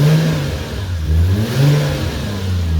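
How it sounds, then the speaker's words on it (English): Toyota 1JZ engine in a Mark 2 revving hard and close, rising and falling through a few throttle blips with a deep, loud note. "it's a very healthy sounding engine. It revs nice"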